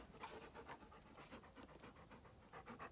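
A dog pants steadily and rhythmically at close range, quick breathy puffs repeating for the whole stretch with no other sounds.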